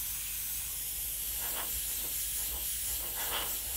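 An airbrush sprays opaque Createx paint in a steady, close hiss, with faint soft clicks from the tool during the spray.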